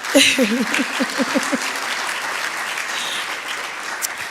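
A conference audience at an EU-Caribbean meeting on sargassum breaks into applause, a broad steady patter of many hands that follows a short burst of speech at the start.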